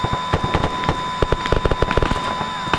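Rapid gunfire in a military video game's combined-arms operation, irregular bursts of sharp cracks and pops at middle distance over a steady background hum.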